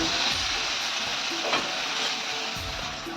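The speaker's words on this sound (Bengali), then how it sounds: "মেথি শাক ভাজা হবে বেগুন দিয়ে।" Fenugreek greens with brinjal fry in a pan, a steady close sizzle with stirring scrapes running throughout.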